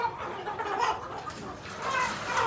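Chickens cluck and squawk at a Vietnamese market stall, several close, irregular calls rising and falling.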